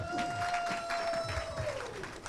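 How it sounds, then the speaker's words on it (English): A crowd at the Peekskill Youth Bureau Kwanzaa celebration applauds in a steady wash of clapping, with murmured voices and a faint sustained tone beneath it. "Give yourselves a round of applause one more time for being here"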